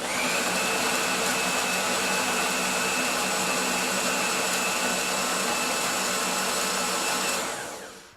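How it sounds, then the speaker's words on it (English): A food processor fitted with an S blade chops basil and pumpkin seeds for pesto, giving a loud, steady motor whir with a chopping rattle that runs unbroken for about seven seconds before winding down. "Now we're using the S blade in the food processor."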